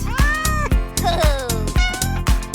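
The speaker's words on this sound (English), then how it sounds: "It's a cat." Repeated meows ride over a thumping, rhythmic children's song beat. The cat-like cries rise and fall several times in quick succession, close and prominent within the music.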